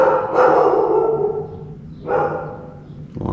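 A dog barks three times, a long bark followed by two shorter ones, moderately close and loud, with quiet background and no talk.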